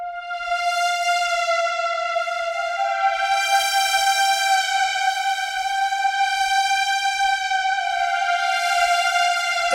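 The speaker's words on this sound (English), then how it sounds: "this is my favorite plugin right now, the Legend Hans Zimmer, and you can make any sound you want on this one." A bright, sustained synth tone from the Hans Zimmer Legend plugin, used in a chorus, holds one steady note rich in harmonics, swelling gently in brightness without pause.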